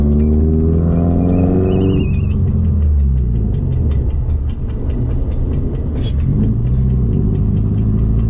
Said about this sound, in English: That does not sound like a flat tire whatsoever, but it is.